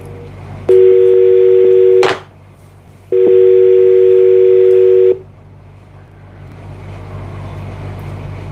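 Telephone keypad tones sound as a number is dialed: two long steady touch-tone bursts separated by a short gap, loud and close, with a low background hum and no talk.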